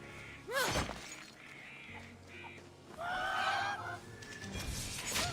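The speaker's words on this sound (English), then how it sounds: "You're fighting a chicken." A chicken in a video game squawks and clucks in several sharp bursts amid crashing, shattering game effects and a fluttering honk-like tone, loud and busy throughout.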